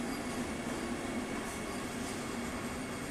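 A Vande Bharat Express train rushes past with a steady, loud rumbling roar that stays constant from start to finish.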